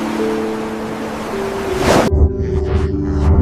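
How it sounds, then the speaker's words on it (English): Ocean waves wash and roll in a broad steady surge, with a brief louder crash midway followed by rougher wind-blown water and low rumble; no voices. "The next morning, Jester watches the sun rise over the endless ocean."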